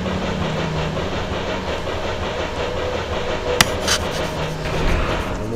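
A tram ride in the video game OFF carries a steady rumbling, rolling drone, like a rail car in motion, with a sharp metallic click midway and faint clattering, continuous and fairly loud with no voices.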